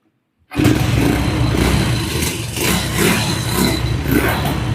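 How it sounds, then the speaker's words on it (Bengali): A used motorcycle, an inexpensive bike offered for sale in Bangladesh, is kick-started with a single kick and then idles. The engine catches after a short silence and keeps up a steady, loud, close running rumble with no talk. "দেখেন এক কিকে স্টার্ট প্রতি কিকে স্টার্ট হবে"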